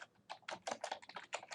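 Rapid, close keystrokes clatter on a computer keyboard in an irregular burst of clicks, with no other sound.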